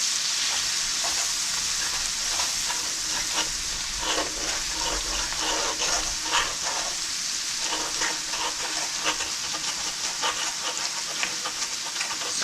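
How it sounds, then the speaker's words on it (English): Vegetables sautéing in a pan for pork chop gravy, a steady soft sizzle with intermittent scraping and stirring clatter throughout, close and moderately loud, no talking. "Saute these for just a couple minutes."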